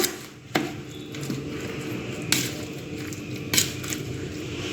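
Lemon pickle being stirred in a container, giving a few sharp scrapes and knocks at irregular intervals over a low, steady background.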